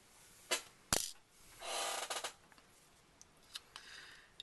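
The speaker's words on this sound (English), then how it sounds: "So we're going to go ahead and loosen and take these 2 screws out and set these to the side." Small screws being loosened and lifted out of a Nintendo DS Lite during a touch screen repair, heard as a few faint, close clicks and a brief scraping turn, with sparse ticks as the parts are set aside.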